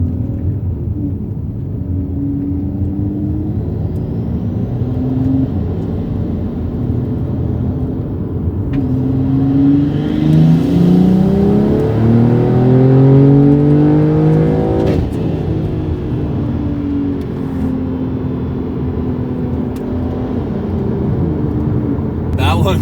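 A catless big-turbo BMW M340i accelerates hard, its engine note climbing through rising sweeps in two pulls with a brief dip for a gear change, close and loud inside the cabin while someone talks over it.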